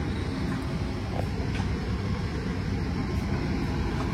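An economy-class train rolls into track 2 at Gombong station, a steady low rumble and hum from inside the carriage with faint clicks, continuous and moderately quiet.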